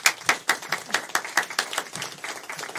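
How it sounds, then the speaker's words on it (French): A small audience claps in quick, distinct bursts during a live Twitch stream, the clapping fairly close and loud and gradually thinning out. "On applaudit Alice."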